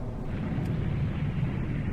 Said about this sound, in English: That was a big explosion too